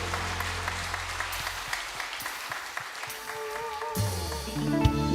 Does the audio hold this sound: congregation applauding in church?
yes